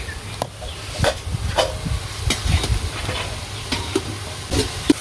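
Vegetables frying in a pan for a banana flower and coconut milk dish, a continuous sizzle broken by irregular scraping stirs and soft taps.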